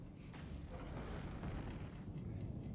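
Missiles blast in the PS Vita game Freedom Wars as a continuous, heavy rumbling roar of overlapping explosions with dense low-end booms, loud and sustained throughout with no clear pauses.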